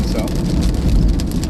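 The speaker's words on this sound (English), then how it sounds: "Alright, we're going to have heavy rain here." Heavy rain pounds down in a severe thunderstorm in southwest Iowa, a dense roaring wash close by with a low rumble underneath, while someone speaks briefly over it.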